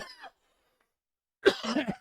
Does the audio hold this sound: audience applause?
no